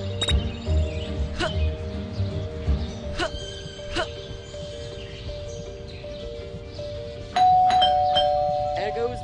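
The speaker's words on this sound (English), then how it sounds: "There goes that stupid bell again." A doorbell in the video game Scary Teacher 3D, several bright chimes ringing at intervals over a background music loop, with a final longer ring near the end.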